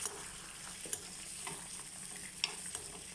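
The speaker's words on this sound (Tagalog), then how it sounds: "Igigisa natin. O, diba? Yan po. Gisa natin yung raisin." Raisins sautéed in a pan alongside onions while preparing an Arabic-style chicken dish give a low, steady sizzle broken by a few sharp clinks of a utensil stirring against the pan.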